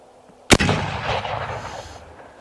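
A .56 caliber Colt revolving carbine fires a single loud, sharp shot loaded with a heavier conical ball, followed by a long, broad rumbling echo that fades over about two seconds.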